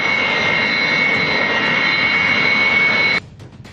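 A Sukhoi fighter jet of the Indian Air Force roars with a loud, sustained engine howl and a high whine, then cuts off abruptly near the end.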